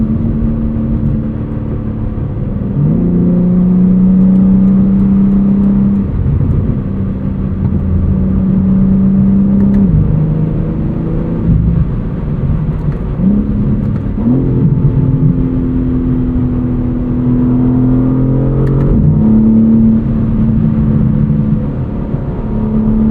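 A 2024 BMW M3 CS driven in sport mode at night: the engine drones steadily from inside the cabin, rising through revs and dropping at several upshifts, loud and continuous with no talking.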